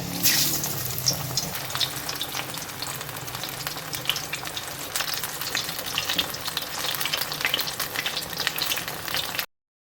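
Brinjal pakoras deep-frying in hot oil give a steady, dense, crackling sizzle throughout, close and continuous, then it cuts off abruptly near the end; no one speaks.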